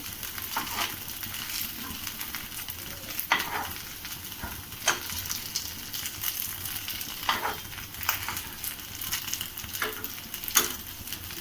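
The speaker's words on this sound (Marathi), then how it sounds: "आता आपली दुसरी बाजू सुद्धा छान अशी खरपूस भाजून झाली आहे." Aloo poha cutlets sizzle steadily in a pan as their second side crisps, with a continuous close frying hiss broken by occasional sharp clicks and spatters and no voices.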